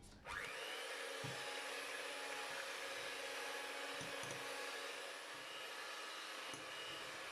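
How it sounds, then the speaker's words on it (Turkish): An electric mixer whips eggs with sugar for a tiramisu batter, a steady continuous motor whir with faint clicks and bumps of the beaters against the bowl, running alone without speech. "Mikser yardımıyla 5 dakika boyunca aralıksız çırpalım."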